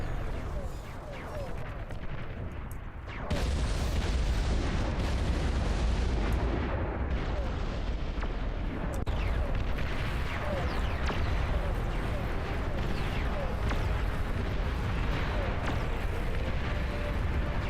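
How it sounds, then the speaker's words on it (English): Plasma cannons and artillery fire continuously in the Beyond All Reason real-time strategy game, a loud dense barrage of booms and blasts that swells after a few seconds and rumbles on without pause. "All the plasma cannons!"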